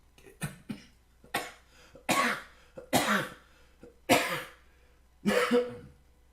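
A series of harsh coughs, about seven bursts in uneven rhythm, close and fairly loud with quiet gaps between them.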